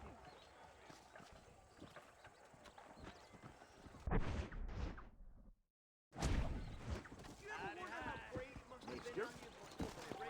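Horse hooves clip-clop in the video game Satisfactory, a quiet, rhythmic run of hoof falls broken by a brief silent gap midway before resuming.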